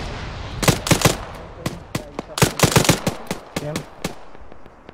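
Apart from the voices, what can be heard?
gunfire from an enemy in the video game Arma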